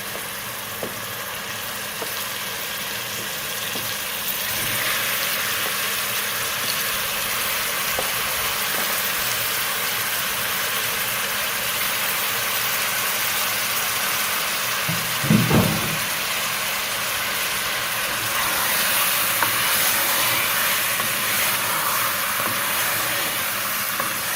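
Chicken and garlic frying in a covered pot for chicken mandi, giving a steady soft hiss and sizzle that runs on continuously, with a brief louder stir or clatter partway through.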